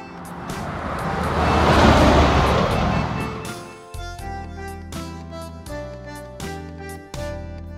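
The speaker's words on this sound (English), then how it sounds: "Race car." A race car roars past loudly, its engine noise swelling to a peak and fading over a few seconds before music with a steady beat takes over.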